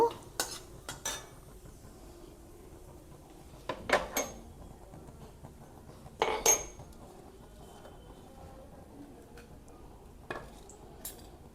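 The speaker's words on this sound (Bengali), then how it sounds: "গোটা জিরে দিয়ে একটু নেড়ে নেব" A utensil stirs whole cumin and a bay leaf in a pan: a few sharp metallic clinks and scrapes spaced several seconds apart over a quiet kitchen background.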